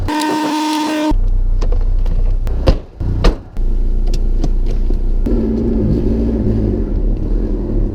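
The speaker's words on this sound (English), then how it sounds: "It worked, car is on." A lowered BMW E36 318is idles just after a jump start, its engine settling into a steady low rumble close by, broken by a couple of brief sharp knocks and a shift in tone partway through.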